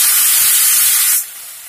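Ground onion paste hitting hot oil with cumin in a pan, a loud steady sizzling hiss that drops suddenly to a quieter fizz partway through.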